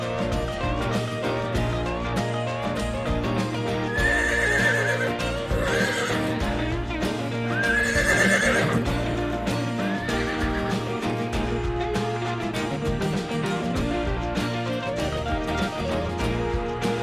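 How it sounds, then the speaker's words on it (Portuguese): Horse whinnies ring out over a continuous musical backing, with two clear neighs near the middle and a fainter one after, while soft hoof clip-clops blend into the busy mix. "Horses are strong and fast."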